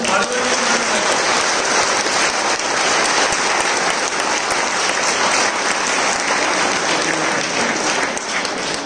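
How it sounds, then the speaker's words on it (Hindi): An audience at a student motivational talk by a lieutenant officer breaks into loud, sustained clapping that holds steady and dense for the full stretch, with no break. "तो मैं सबसे विनती करूंगा चिराग भाई के लिए जोरदार ताली बजाएं।"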